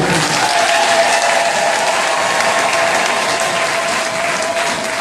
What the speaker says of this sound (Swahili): Si mngashukuru kwa makofi mazuri.